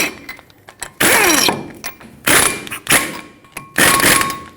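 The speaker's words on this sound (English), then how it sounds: "I'm going to use 2 lug nuts and bottom them out up against the rotor so that it doesn't move around." Lug nuts being run down against the brake rotor on a Ford F-350 front hub, heard as a series of loud whirring power-tool bursts with metallic rattles and clunks between them, close by.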